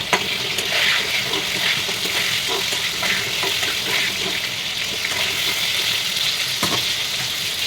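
Pointed gourd sizzles in hot oil with salt and turmeric while being stirred in the pan, producing a steady crackling fry with occasional scraping.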